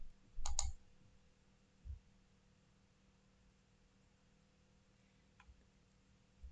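Faint computer mouse clicks during a Windows 10 software installation: a quick double click near the start, then single soft clicks spaced a few seconds apart over quiet background hiss.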